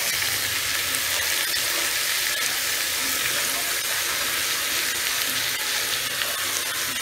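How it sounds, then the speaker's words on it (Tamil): Chopped tomatoes frying in a pan for Coimbatore-style tomato chutney, a steady loud sizzle that holds without a break, close and with no talking. "சோ தக்காளி போட்டுக்கோங்க."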